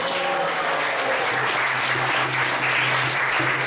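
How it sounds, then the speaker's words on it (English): Temple congregation applauding during a Sunday feast at an ISKCON temple in Atlanta, a steady dense wash of hand claps lasting throughout at even loudness, with a low hum beneath. "Let's give a round of applause for this wonderful work."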